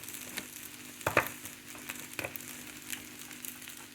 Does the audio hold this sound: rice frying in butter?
yes